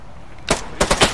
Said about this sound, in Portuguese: Tá escutando esse tiro aí?